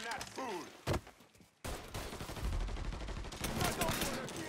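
Rapid bursts of gunfire in the Mafia 3 video game, a short sharp shot followed by sustained dense automatic fire, loud and close.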